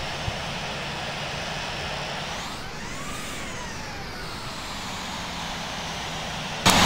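Steady roar of an airplane engine during a landing in a flight simulator video game, a continuous loud drone with a rising and falling whine midway, heard alone without talk.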